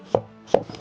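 Two crisp knife chops as zucchini is sliced on a board, close and sharp, spaced a little under half a second apart.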